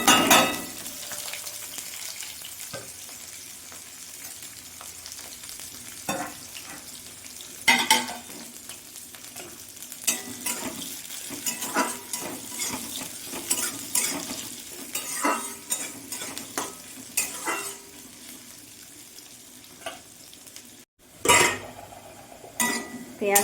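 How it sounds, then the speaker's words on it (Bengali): Onions fry in a pan alongside whole garam masala and cumin, with a low continuous sizzle under repeated clinks and scrapes of a metal spoon stirring against the pan. Faint voices come and go. "পেঁয়াজ ভাজা হয়ে গেছে।"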